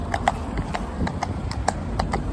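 A driving horse trots on a hard road around town, crisp, regular hoof clip-clops close by, with a quiet voice faintly underneath.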